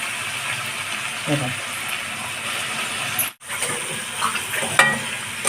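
Chopped capsicum being stirred with salt in a pan, a steady scraping and sizzling texture with brief clinks of the spoon and a short pause midway.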